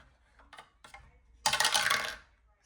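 Dice tumble and rattle across a hard surface during a Shut the Fridge board game night, a brief sharp burst after a couple of lighter clicks, close and alone without talk.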